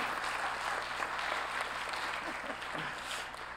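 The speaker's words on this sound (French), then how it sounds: "Est-ce qu'on pourrait avoir quelques applaudissements chaleureux" Audience at a science mediation panel debate giving warm applause, sustained many-handed clapping that fades slightly near the end.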